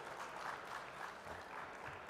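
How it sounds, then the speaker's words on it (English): An audience claps after talk of medical excellence, a fairly soft, even rush of many hands heard from some distance, steady from start to finish with no talking over it. "I think we should clap to that really"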